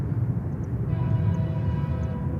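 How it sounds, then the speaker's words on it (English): A train passes near Miami airport, heard as a steady low rumble with a faint tonal hum joining partway through, fairly quiet and without voices. "I think there's a train coming"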